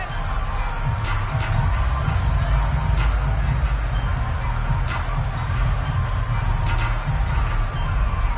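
A large football stadium crowd in an NFL game between the Panthers and Falcons roars and shouts continuously while watching a replay, a dense, loud, steady wash of voices with a deep rumbling undertone.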